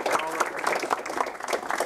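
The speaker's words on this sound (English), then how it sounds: "y'all give a round of applause to the ribbon cutting" Outdoor crowd clapping at a chamber of commerce ribbon cutting for a small business development center in New Braunfels, a dense continuous patter of claps with talking over it.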